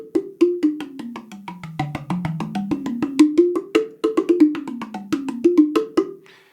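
A tuned tongue drum heard through a piezo contact pickup plays a quick run of bright, percussive notes that step down and then climb back up. Each strike has a sharp attack and a thinner, brighter ring, with no voices.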